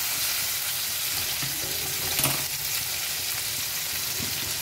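Potatoes, onions and tomatoes fry in a pan with salt just added, giving a steady close sizzle throughout, with no talking.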